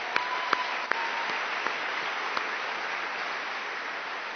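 Steady, sustained applause from a crowd, a dense wash of clapping with a few sharper claps standing out near the start.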